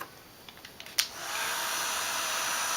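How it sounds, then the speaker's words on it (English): A few faint clicks and a sharp switch snap, then a heat embossing tool starts up and blows hot air with a steady, close whooshing hiss that continues to the end. "I am heat embossing them."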